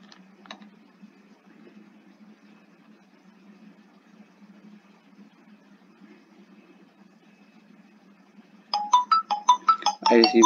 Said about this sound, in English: I received the call, let me answer it.